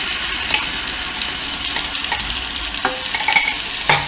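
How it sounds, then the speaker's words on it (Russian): Onion and tomato fry in a GFGRIL GFM-718D multicooker, a close, steady sizzle with scattered clicks and scrapes of stirring throughout and no talking. "Обжариваем лучок"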